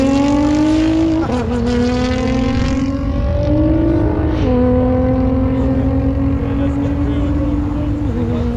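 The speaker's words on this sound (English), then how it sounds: "Supra up against Ross Forsyth's GTR." A Toyota Supra and a Nissan GT-R drag race at an Oamaru drag meeting, their engines roaring loud and near. The pitch climbs and drops with each gear change, and a commentator's voice runs over the noise.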